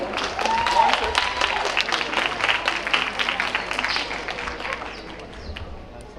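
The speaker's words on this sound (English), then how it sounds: "Round of applause for Amoy." Audience at a preparatory school graduation exercise claps in a steady dense patter, loud at first and easing toward the end, with crowd murmur beneath.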